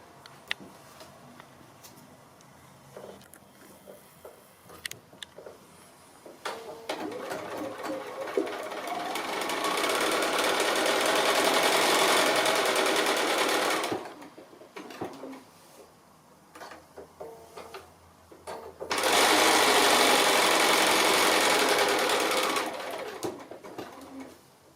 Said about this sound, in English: what I'm going to do is top stitch all the way around it